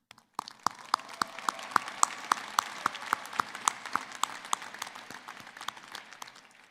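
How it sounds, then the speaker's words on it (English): At a graduation ceremony, applause for the platform party rises from a few sharp claps into a brisk, fairly even patter of clapping, moderately distant and fading toward the end, with no talking. "please join me in a round of applause for our entire Platform Party and all of the volunteers"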